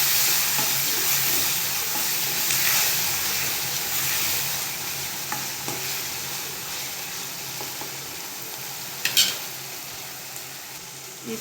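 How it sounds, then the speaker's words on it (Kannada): Junuka bubbles in a pot on the stove, giving a steady close sizzle and simmer with one brief clatter near the end. "ಈ ಸೈಡ್ ನೋಡಿ ಕುದಿತಾ ಇದೆ."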